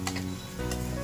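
Onion and chili masala fries in a pan with a soft, continuous sizzle, punctuated by a couple of faint ticking stirs, quiet and steady throughout the brief moment.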